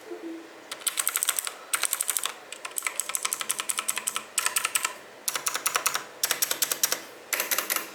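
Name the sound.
Logitech G Pro X keyboard GX Blue switches clicking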